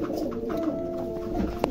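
Fancy pigeons at a pigeon farm coo softly and repeatedly, low rolling calls close by against a quiet background, with no talking.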